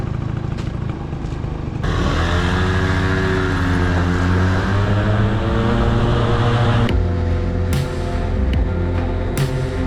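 A motorbike on a mountain road near a seaside town: engine rumble close by, a rev that rises and falls in pitch as it accelerates and shifts, then a steady run, with no talking.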